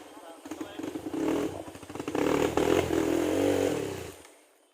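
Motorcycles riding in convoy toward a rural sitio in Palimbang, Sultan Kudarat, with a continuous rough engine drone swelling and easing, close and loud, while voices are heard over it.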